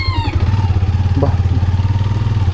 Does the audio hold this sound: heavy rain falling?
no